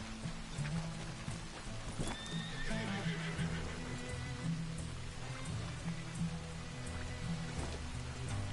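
A horse in Red Dead Redemption 2 neighs and whinnies over steady hoof clip-clop, with rain falling throughout and a low background score; the whinny stands out near the middle, fairly close and clear, with no talking.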